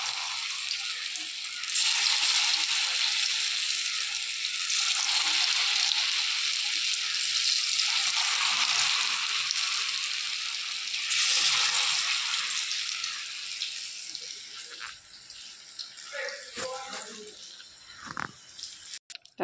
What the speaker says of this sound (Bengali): তেলটা গরম হয়ে গেছে, এখন আমি একটা একটা করে বড়া দেব